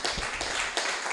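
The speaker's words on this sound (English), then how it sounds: "Can we get another round of applause for everyone who's just come up?" A short burst of audience applause at an evening talks event, thanking the previous speakers; soft, dense clapping that swells twice in a little over a second, with no talk over it.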